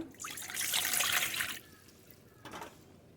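Water is poured into flour to make roti dough, a soft close trickle and splash lasting over a second, followed by a brief second pour.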